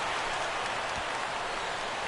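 Rain falls in a PS4 baseball video game as an even, continuous broadband hiss, like steady rain washing over the ballpark, with no break and no voices.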